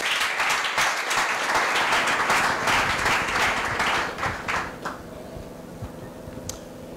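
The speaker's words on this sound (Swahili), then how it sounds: "Tufanye makofi kwa Yesu." Congregation clapping for Jesus at a church service, a loud, dense burst of many hands with sharp individual claps standing out, thinning and fading away over the last few seconds.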